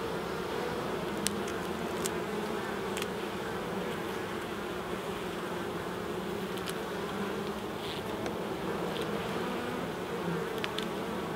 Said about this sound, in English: They're nice and calm, these bees.